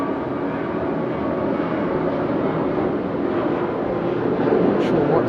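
Airliner in Pokemon livery taking off at an Okinawa airport, a steady broad jet roar that holds loud and continuous throughout, heard from a distance with wind rumble.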